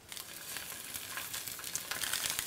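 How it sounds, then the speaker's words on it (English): Steady crackling sizzle of sausages frying in a hot pan, close and continuous with bright popping spatters throughout. "Nothing like a sizzle."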